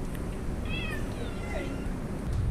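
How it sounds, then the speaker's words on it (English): A pet cat gives a few short meows, close by but fairly soft, over a steady low background hum with no talking. "Occasionally, Chow Chow meows too."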